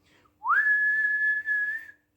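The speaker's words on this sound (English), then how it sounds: "Whistled the whistle." A single long, steady whistle blast in a Mr. Men cartoon story, rising briefly then holding one shrill pitch for about one and a half seconds with a tiny dip before ending, close and loud with no talk.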